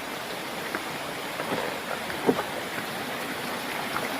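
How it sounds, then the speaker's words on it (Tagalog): Heavy rain pours down in a steady, dense hiss, broken only by a few faint thumps of drops and splashes, with no voices. "Kusog yung ulan."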